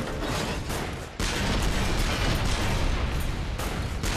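Gunfire in the video game Toy Soldiers War Chest, a dense continuous barrage of loud shots and booms with a brief break, no talk over it.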